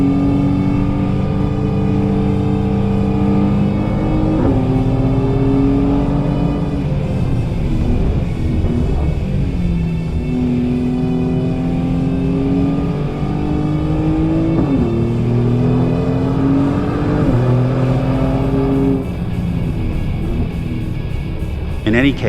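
Race car lapping the Area 27 circuit, engine heard from inside at high volume, climbing through the revs and dropping with each upshift or braking zone, repeated pulls across the lap, with a voice talking over it.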